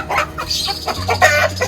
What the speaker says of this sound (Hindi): ये देखें, ये मुर्गा देखें,